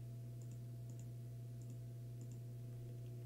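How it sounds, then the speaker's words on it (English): Computer mouse clicked repeatedly while tracing around an image background in Inkscape, heard as soft paired clicks spaced about every half second under a steady low hum. "And you're just going to keep clicking"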